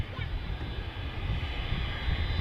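An airliner taking off at Manchester Airport produces a steady, broad jet roar with a low rumble, continuous and moderately loud throughout.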